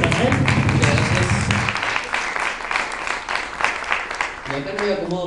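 An audience breaks into sustained applause for a band member at a performance. Dense, loud clapping fills the whole stretch, with a voice briefly audible at the start and near the end.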